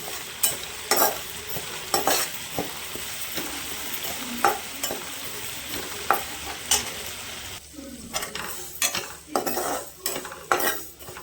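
Mung dal and papaya curry fries in a pan while a utensil stirs it, giving repeated scraping clinks and irregular knocks against the metal over a soft, constant sizzle.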